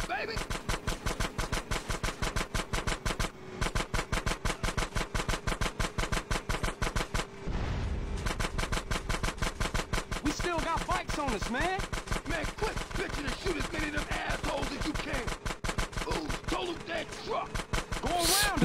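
Rapid automatic gunfire from a shooting video game rattles almost continuously in fast bursts, loud and close, with a few brief pauses between volleys.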